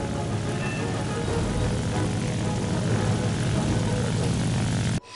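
A propeller warplane's engine drones steadily and loudly in War Thunder, a continuous thick roar that holds without a break before cutting off abruptly near the end.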